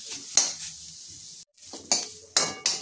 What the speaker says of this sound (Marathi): कांदा आता भाजत आलेला आहे